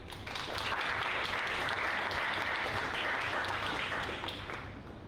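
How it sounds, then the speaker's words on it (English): Sustained audience applause at an expatriate entrepreneurs' awards ceremony honouring a restaurateur winner, a dense wash of many hands clapping that swells in, holds steadily for several seconds and tapers at the end, heard at a fairly low level. "Let's give a round of applause to Andrew"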